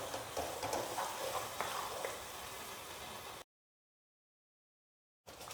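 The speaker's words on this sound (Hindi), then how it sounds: "1 प्याज का अच्छी तरह पेस्ट किया हुआ वो ऐड करेंगे और 4 से 5 मिनट धीमी आंच पे पकाएंगे" Onion paste cooking gently on low heat for a moong sprouts sabzi, with soft sizzling and occasional stirring scrapes for a few seconds before the sound cuts out abruptly into silence, then briefly returns.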